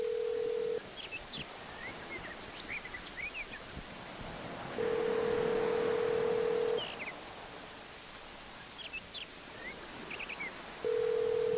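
Phone line ringback tone sounding in three long steady pulses separated by pauses, fairly loud over a hissy background, with faint clicks between rings.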